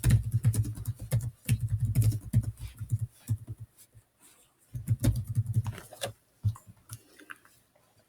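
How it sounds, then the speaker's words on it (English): Typing on a computer keyboard while entering text into an Excel 2016 spreadsheet cell: close, crisp bursts of rapid keystrokes broken by short pauses, with no talk over them. "I'm going to type in first quarter expenses."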